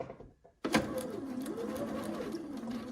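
Sewing machine stitching a quilt of pieced green blocks: a brief near-silent lead-in, then a sudden steady mechanical whirr with rapid needle clatter running continuously, close and moderately loud.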